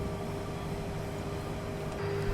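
An Acela Express in the Train Simulator 2020 video game runs on the New York New Haven line, giving a continuous steady rumble with a faint whine and a slight surge in level near the end.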